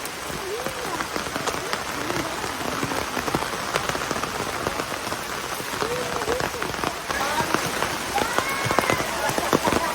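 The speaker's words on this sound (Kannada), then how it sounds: "ನೋಡಿ ಮಳೆ ಬಂತು" Steady heavy rain pours down on surfaces close by, a dense continuous patter with occasional faint voices and clatter in the background.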